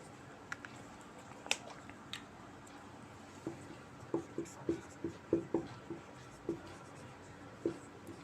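Chalk taps and scratches across a board during a Bengali physics lesson on wave optics, a faint, uneven series of small clicks that clusters into a quick rhythm toward the end.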